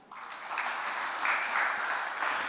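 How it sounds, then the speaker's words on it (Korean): A church congregation claps steadily for a few seconds during a Sunday service sermon, a dense patter of applause at close range with no talking. "박수 한번 쳐줍시다"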